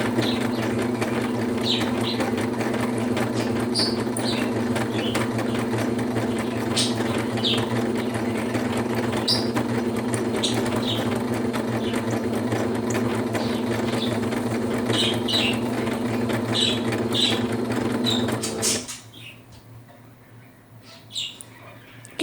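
A sewing machine stitching slowly on practice paper: a steady humming motor drone with faint ticking over it runs for most of the time, then cuts off near the end and leaves near silence.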